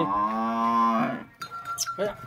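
A single long, deep moo from a nearby water buffalo, followed by a short pause and some quieter snorts and shuffling.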